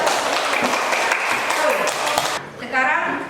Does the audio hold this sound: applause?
yes